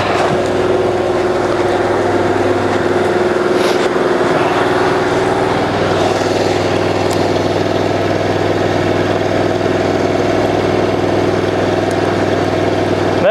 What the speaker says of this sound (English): Machine can idle all day as long as you got fuel.